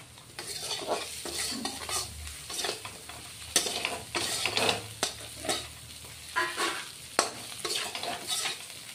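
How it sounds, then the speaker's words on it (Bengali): Potatoes and chapila fish with spices fry in a pan, a steady close sizzle broken by repeated scraping stirs and the odd clink of a utensil on metal, with no voices. "এবার অল্প ভেজে নিব। আঁচটা একটু বাড়িয়ে দিচ্ছি।"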